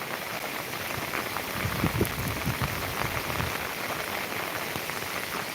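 Heavy monsoon rain pours steadily at Koyna, a dense even hiss of drops hammering surfaces without a break.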